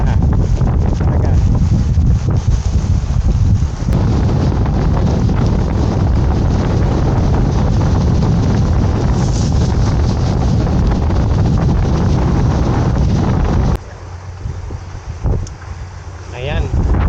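Strong wind buffets the microphone continuously at the Baseco fishing spot, with rough water and surf churning beneath it and people talking, easing slightly near the end.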